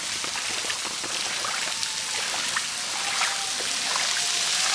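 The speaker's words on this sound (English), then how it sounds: "That's some serious rain." Heavy rain in Bahia, Brazil falls in a constant dense patter with splashing, trickling runoff, building slightly louder toward the end, with no talking.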